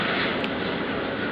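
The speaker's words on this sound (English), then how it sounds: "Huge army jet, extremely low," A huge army jet flies extremely low overhead beneath heavy cloud cover on a quiet dead-end street, its broad engine roar loud, steady and close throughout with no speech.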